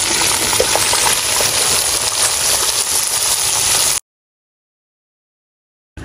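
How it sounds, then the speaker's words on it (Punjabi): Onions added to a hot pan for Kerala gosht, a dense steady sizzle with faint clinks that cuts off abruptly into silence. "ਹੁਣ ਜੀ ਕਰ ਦੇਵਾਂਗੇ ਪਿਆਜ਼ ਸ਼ਾਮਿਲ"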